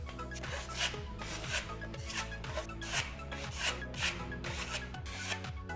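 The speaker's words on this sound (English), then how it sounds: "With the right tool, it's just as satisfying to take this coating off as it is to apply it." A hand tool scraping a coating off a surface in steady, rhythmic strokes, each a rough rasping rub repeated about twice a second, close and continuous with no talk.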